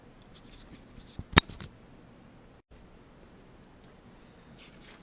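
A template for a replacement Honda ST1100 motorcycle mirror being cut, with one sharp, close snip standing out against a low background rustle, followed by quiet handling.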